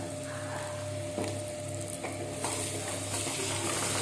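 Steady oil sizzle from a pan of tempering with turmeric and salt, continuous and close, with a few soft stirring scrapes and no voices.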